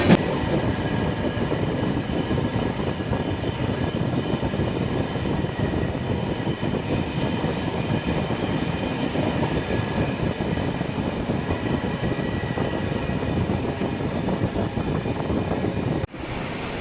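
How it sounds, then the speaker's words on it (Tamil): The Nilgiri Express passes close by with its new LHB coaches, a loud, continuous rumble of wheels on rails and rushing wind that holds steady before cutting off abruptly at the end. "இன்னைக்கு நம்ம பக்கத்தில் கம்பீரமாக நீலகிரி LHBயோட போயிட்டு இருக்கு"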